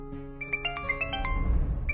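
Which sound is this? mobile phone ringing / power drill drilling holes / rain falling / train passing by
mobile phone ringing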